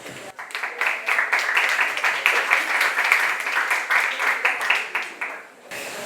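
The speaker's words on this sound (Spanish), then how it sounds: "Un aplauso." An audience bursts into applause at a university talk on peace, the clapping swelling quickly to a steady, close patter of many hands before tapering off near the end.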